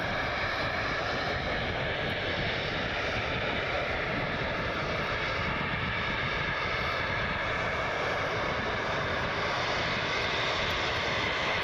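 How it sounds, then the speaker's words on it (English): A Delta Connection CRJ 900 regional jet run by SkyWest roars steadily and loudly at Cleveland Hopkins International Airport, a continuous broadband engine rumble that holds for the whole stretch. "Delta Connection 4062 CRJ 900 heading to Detroit"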